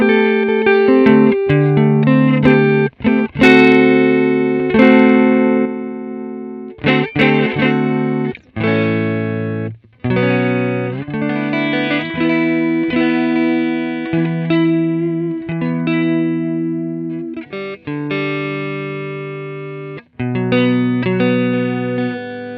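A guitar plays through the NUX MG-300 Super Reverb clean amp model, with chords and notes ringing loud and close, with reverb tails between phrases, and no voice.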